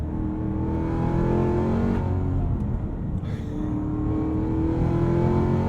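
A Hennessey H1000-tuned Cadillac CT5 Blackwing accelerating hard through a canyon, its engine a loud, sustained, rising roar with dense harmonic growl that echoes off rock walls, heard alone without talk.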